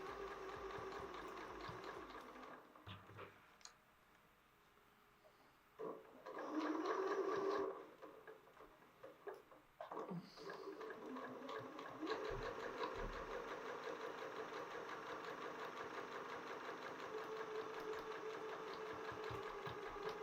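Sewing machine stitching a patchwork block seam: a close, even motor hum with fast needle chatter, broken by a short pause and louder handling clatter, then resuming steadily to the end.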